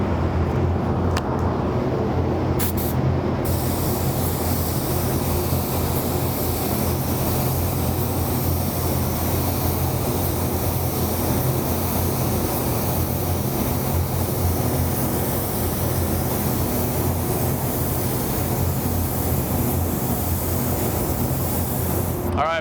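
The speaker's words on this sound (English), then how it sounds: "this is going to be coat number 1 of our white sealer" A spray gun lays down a first white sealer coat on a hard surface, a steady close hissing rush of air and spray that continues almost unbroken throughout.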